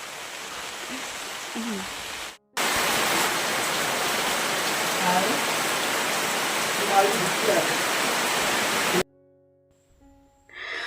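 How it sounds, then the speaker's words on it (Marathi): Steady rain pours down in a dense, even hiss for several seconds, then stops abruptly, leaving near silence. "पाऊस आला पाऊस आला थांबूया जरा"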